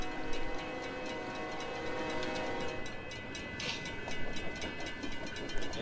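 An Amtrak train in the video game Roblox rolls along with a steady synthetic rumble and a rapid clicking rhythm of wheels on track, fairly loud and continuous, with a brief hiss burst midway and no talking.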